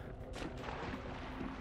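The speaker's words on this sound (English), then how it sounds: "We're also going towards the sound of the gunshots" Gunfire in the multiplayer shooter game Hunt: Showdown, a string of dull, booming shots echoing from a distance over steady background ambience, with no talk.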